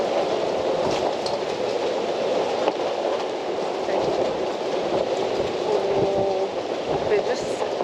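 Strong sustained wind of 28 to 32 knots howling around a sailboat at anchor, a continuous loud rushing roar with gusting swells and rigging noise throughout.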